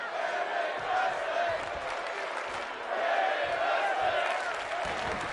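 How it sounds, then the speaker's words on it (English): A large wrestling arena crowd in WWE 2K22 chants in a rising and falling rhythmic roar that sustains throughout, dense and moderately distant. "Listen to that crowd chant. They are getting into this match."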